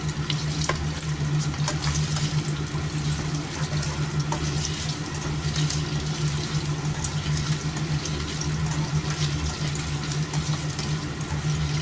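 Chicken stir-frying in a pan, a steady dense sizzle with scraping and stirring noises throughout, continuous and close with no talking.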